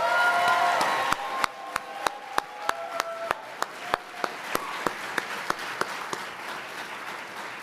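Audience applause for award recipient Cece at the Chancellor's Leadership Awards, Spring 2024: a full, steady round of clapping from a crowd indoors, gradually thinning, with crisp individual claps standing out near the end.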